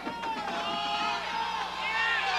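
A crowd at a candlepin bowling match bursts into loud, sustained cheering and whooping after a big-money shot, a dense wash of voices filling the whole moment without a break.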